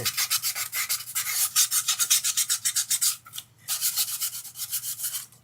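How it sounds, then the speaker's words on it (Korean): Rapid, steady back-and-forth scraping of very fine, soft sandpaper against a stainless steel pot, close up, with a short pause partway through before the rubbing resumes. "가장 부드러운 사포예요."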